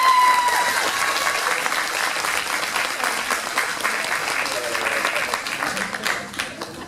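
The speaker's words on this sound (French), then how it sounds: "Merci d'applaudir." An audience applauds at the 2015 Saiten cosplay parade in Dijon, a thick, continuous roar of clapping that stays loud and close, with faint crowd voices mixed in and a slight tapering near the end.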